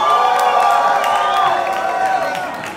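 Audience at a KuirFest Bogotá closing gala cheering and clapping for a contestant, a loud, close wash of shrieks and whoops with applause underneath that eases slightly at the end.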